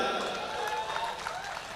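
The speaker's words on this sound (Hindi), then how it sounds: "एक बार अच्छा लगा तो जोरदार तालियां बजा दें।" An audience at a ghazal poetry recital breaks into a brief, dense wash of applause, loud and continuous, with voices mixed in.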